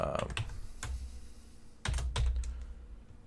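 Close, moderately loud bursts of typing on a computer keyboard, a quick cluster of keystrokes followed by a pause and then another short run of clacking keys, with no voice.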